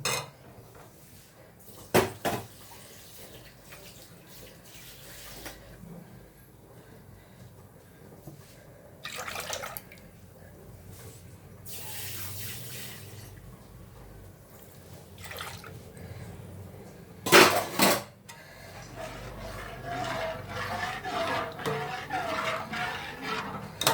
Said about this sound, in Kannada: ಇದು ಒಂದು ಕುದಿ ಬರೋವರೆಗೂ ತಿರುಗ್ತಾನೆ ಇರಬೇಕು, ಇಲ್ಲ ಅಂದರೆ ತಳ ಕಚ್ಕೊಂಡ್ಬಿಡುತ್ತೆ ಅದು.